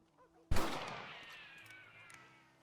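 A single loud rifle gunshot in Red Dead Redemption cracks sharply, then rings out in a long, slowly fading echo across open terrain, heard alone.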